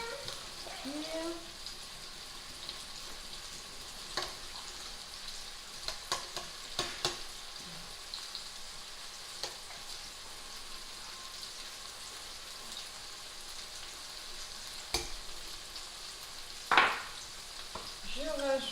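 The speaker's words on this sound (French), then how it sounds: "je vais toujours revenir mes oignons" Onions sauté in a pan while pasta cooks for a quick bolognese, a faint steady sizzle with scattered utensil taps and one louder clatter near the end.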